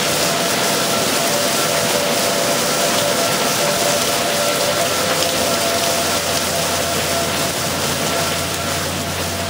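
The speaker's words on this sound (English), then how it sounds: "Raining harder now." Heavy rain pours down outside a doorway as dusk falls, a loud, unbroken wash of drops hitting surfaces with no voices.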